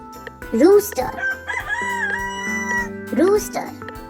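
A farm rooster crows loudly and close by in a full cock-a-doodle-doo, followed by the start of a second crow.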